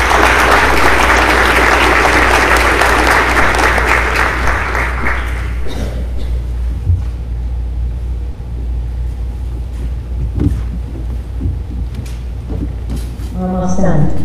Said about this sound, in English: Let's give that group a round of applause, please.